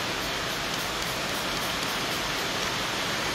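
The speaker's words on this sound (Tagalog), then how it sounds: "Umuulan, ganyan yan ang ulan pero pumapatak, no?" Steady rain pours and patters on a wet surface around a vehicle, a dense continuous hiss of falling water with no distinct individual drips, close and even throughout.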